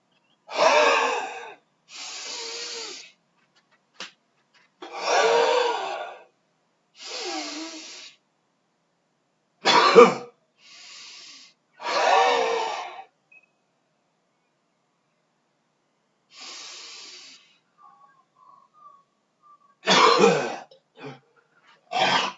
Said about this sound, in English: Cough and push.